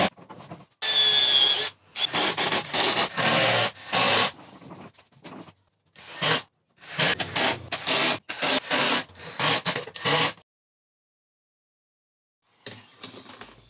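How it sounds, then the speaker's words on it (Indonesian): Screws are driven into wooden table-top pieces, without glue, while building a wooden thickness planer stand. Loud, close bursts of grinding and whirring come in repeated runs of one to two seconds, separated by short pauses, then silence near the end. "lalu dipasang dengan menggunakan skrup saja tanpa menggunakan lem"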